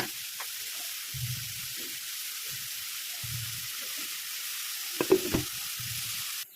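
Steady sizzle of vegetables and prawns stir-frying in a pan, with taro stems among the vegetables, with a few spatula scrapes and stirring clatters over the continuous hiss.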